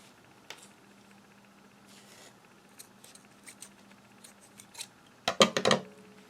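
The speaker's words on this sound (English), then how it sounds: "Guess I need some new scissors." Scissors snip through yarn in a short burst of several crisp cuts near the end, after soft handling noises and a quiet hum, close and alone with no talking, during crochet work on a post-stitch scarf.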